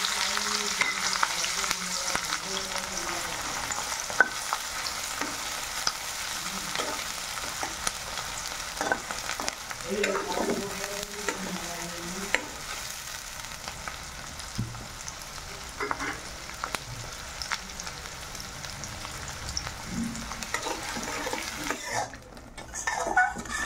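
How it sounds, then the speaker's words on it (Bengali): Chopped onions fry lightly in a pan with a steady, soft sizzle, punctuated by frequent scraping and clinking of a metal spatula against the pan throughout, close and without speech. "এখন বাকি কুচনো পেঁয়াজগুলো দিয়ে হালকা ফ্রাই করবো,"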